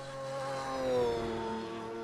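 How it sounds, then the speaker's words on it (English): An unhealthy-sounding GT race car engine at the Nurburgring Nordschleife in iRacing drones through a steady, rough, sustained note that swells and then eases, with no talking. "That is not a healthy sounding car whatsoever."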